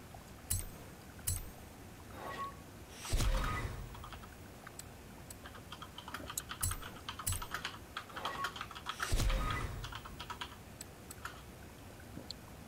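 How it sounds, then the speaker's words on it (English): Hard, rapid typing on a computer keyboard during a Forza Horizon 4 session, dense irregular clacks with a few louder bursts of heavier keystrokes, close and alone with no talk. "Are you over there pounding on your keyboard?"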